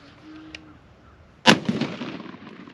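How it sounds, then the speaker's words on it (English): A shotgun fires a slug and buckshot into a refrigerator, giving a single loud, sharp blast after a quiet lead-in, followed by a ringing, rumbling decay. "Does a shotgun go through both of them?"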